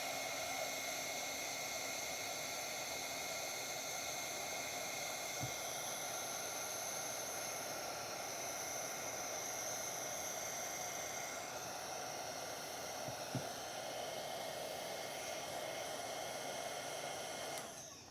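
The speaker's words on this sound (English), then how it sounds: "Let me get my heat gun" A heat gun blows on warm, freshly cured resin, a steady, faint, continuous whooshing hiss with a constant tone that holds throughout, with a couple of tiny clicks and no talk.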